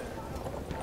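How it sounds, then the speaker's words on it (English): Horse hooves clip-clop steadily in the video game Battlefield 1, a quick rhythmic clatter heard under people talking. "Hey, a horse."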